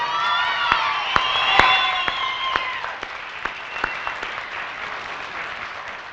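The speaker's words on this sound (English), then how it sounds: "Should we give a round of applause like right now?" Audience applause at a winter graduation ceremony for an alternative high school program, a steady wash of clapping with a few whoops and sharp individual claps standing out, gradually thinning toward the end.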